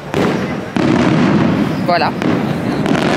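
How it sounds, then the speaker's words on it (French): Fireworks explode outdoors at night in Gozo, Malta, as a dense, loud, continuous roar of crackling bursts with sharper booms. A person speaks briefly over the noise. "Depuis hier, il y a des feux d'artifice, on ne comprend même pas pourquoi."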